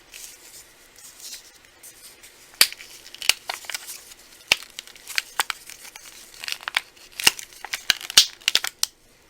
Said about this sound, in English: I'm just going to cut the cup away